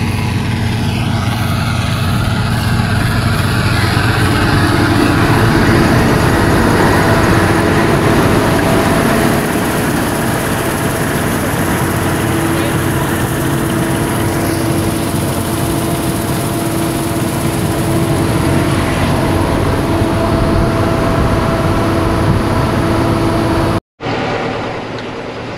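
Bautz Titan tractor engine running during threshing: a loud, steady mechanical drone with a persistent whine, unbroken for over twenty seconds before a brief cut, then continuing.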